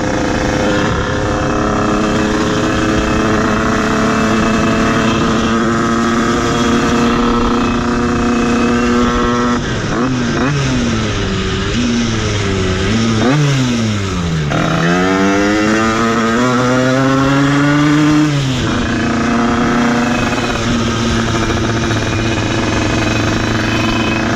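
A restored Derbi 50cc motorcycle engine runs steadily nearby, a buzzy two-stroke drone with a few revs rising and falling midway before it settles back to idle, loud and continuous with no voices.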